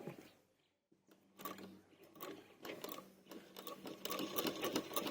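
Sewing machine stitching a suit seam, quiet close mechanical whirring with rapid rhythmic needle ticks in bursts, starting after a brief pause and running steadily, growing slightly busier toward the end.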